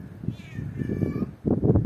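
A clipped-fur cat meows loudly several times in a row, plaintive drawn-out cries close to the listener with no talking.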